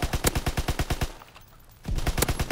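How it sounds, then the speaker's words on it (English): The Grease Gun submachine gun in Call of Duty WWII fires in rapid bursts of evenly spaced shots. A loud stream of about a dozen rounds stops for a short pause, then another burst starts. "I put two bullets on that guy."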